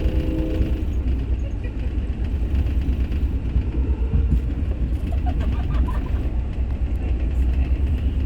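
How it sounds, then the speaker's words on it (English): A Union Pacific high-priority intermodal freight train led by a CM locomotive with an AC44CTE and an SD70M rumbles past as a loud, steady low roar of engines and rolling wagons, continuous and close, with faint birds and rattles above. "UP7310 leading AC44CTE UP5601 and SD70M UP4059 on the high-priority intermodal train bound for Jacksonville"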